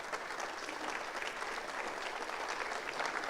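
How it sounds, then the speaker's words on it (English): An audience at a 1 Million Cups entrepreneur presentation in Springfield, Missouri claps in a steady, dense patter of applause that stays even throughout, with no voices rising above it. "Let's give these guys a round of applause."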